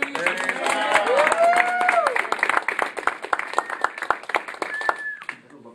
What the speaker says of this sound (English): Bob, give Bob a nice big round of applause.